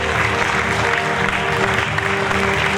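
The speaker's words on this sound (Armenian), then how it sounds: "Ջերմ ծափարեք բոլոր մասնակիցներին այսօր," An audience at an international dance festival claps warmly for the performers, dense and sustained applause filling the hall from start to finish.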